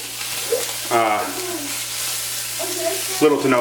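Burgers and onions sizzling in an electric skillet, a steady close hiss of frying that runs throughout with brief stirring sounds, while someone talks over it at times.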